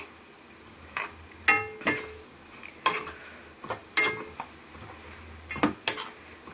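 Chicken being stirred with chili powder in a metal pan, a spoon scraping and clinking against the pan in irregular bursts over a faint sizzle, close and clear.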